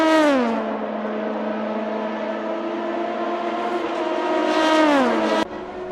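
V6 race cars at Le Mans in a sim race pass with a sustained high engine whine that holds steady, then rises and drops sharply near the end as a car goes by, loud and close.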